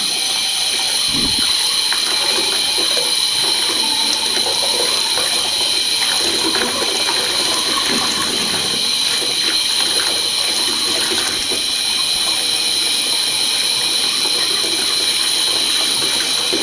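Water runs into a bubble bath in the Webkinz video game, a steady gushing, tap-like stream with faint mechanical clicking, filling the whole stretch at a loud, constant level with no voice over it.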